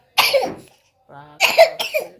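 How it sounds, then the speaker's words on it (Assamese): A child coughs in two separate bursts, the first a single harsh cough and the second a rough run of several coughs, close and clear with quiet in between. "পুৰা কাহ হৈ গৈছে"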